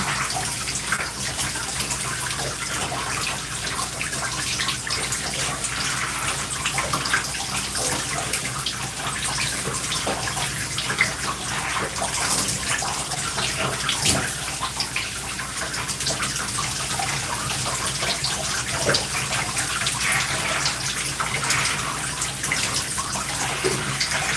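Hair clips rinsed under a running tap, a steady broadband rush of water that stays loud and close for the whole stretch, with small splashes and shifts in the flow and no talking over it.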